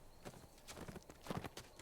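A horse's hooves clip-clop in a quick, quiet rhythm of light repeated thuds in the Dungeons and Dragons Online video game, with no talking.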